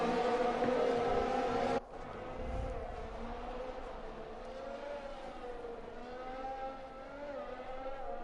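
Sim race cars in the Austria round launching from a standing start on cold tires, a loud blare of many engines that abruptly drops, then layered revving engines climbing through gears, with whining tones rising and falling.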